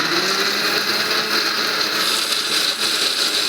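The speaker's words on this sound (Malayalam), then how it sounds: "വെള്ളം ഒഴിച്ചിട്ട് ഇനി നമുക്കിത് മിക്സിയിലിട്ട് അടിക്കാം." A mixer grinder blends plantain with a glass of water for fufu, a steady, loud motor whine and churning that runs unbroken throughout.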